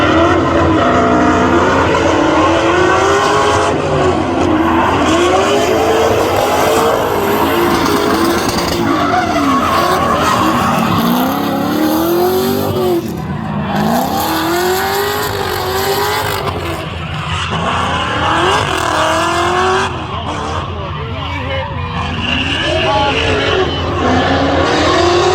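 A V8 race car engine screams loudly, its pitch repeatedly surging and dropping as it bounces off the rev limiter, mixed with tire squeal and skidding on a racing circuit.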